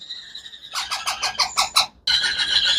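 A biscuit-coloured Indian ringneck parrot chick squawks loudly and close up, first a held harsh call, then a rapid series of rasping pulses, then another sustained squawk, with no voices.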